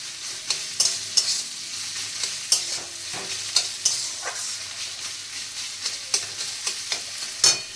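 Radish pieces frying hard over high heat in a pan, a steady sizzle broken by sharp scraping stirs at irregular intervals, close and fairly loud, with no talking.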